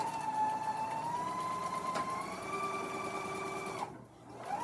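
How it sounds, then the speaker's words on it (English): A sewing machine stitches fabric blocks at a short stitch length with a scant quarter-inch seam and no pins. Its steady, close motor whine rises slightly in pitch, then cuts off near the end. "So back over to my sewing machine again, shorten stitch length to 2 and scant 1/4 inch, and I am going to start sewing"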